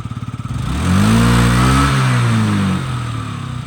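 A Yamaha Jog SA36 fuel-injected scooter engine putters at idle, then revs up and holds a steady higher drone before easing back down, loud and close.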